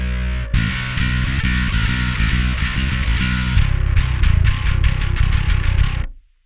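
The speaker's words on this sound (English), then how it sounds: "I like to think of the type of distortion as very chainsaw-esque. It's like a buzz saw." A heavily distorted electric guitar with a microtubes buzz-saw tone chugs out a fast, loud riff of repeated palm-muted notes, ending with a tight run of staccato hits that cut to silence.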